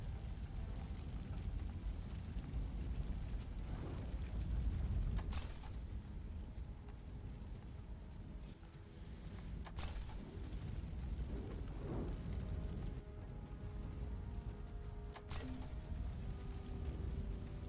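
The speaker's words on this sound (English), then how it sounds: "Fire is blocking the way." Fire burning and blocking a path in the video game RoboCop: Rogue City gives a steady low roar and crackle throughout, with a few sharp bursts and pops over the rumble and no talk.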